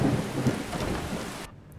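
Steady rain hiss with low thunder rumbles in the video game Skyrim, loud and continuous, then cutting off abruptly near the end to near silence.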